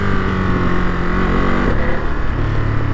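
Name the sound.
2022 Ducati Monster motorcycle engine burbling while riding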